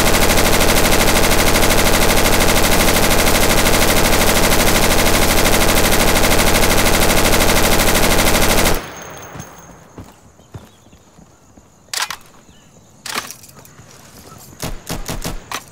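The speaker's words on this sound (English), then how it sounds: "That was me shooting anyway." Sustained automatic gunfire in the shooter game Insurgency hammers loud and rapid for about nine seconds. Scattered single shots and short bursts follow in quieter surroundings.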